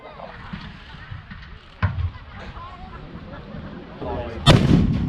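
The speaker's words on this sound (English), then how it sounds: "Oh, huge explosion down there." Explosions and tank gunfire at the Tanks, Trucks and Firepower 2019 military vehicle show: one sharp report early, then a big blast near the end. Someone talks over the booms in open air.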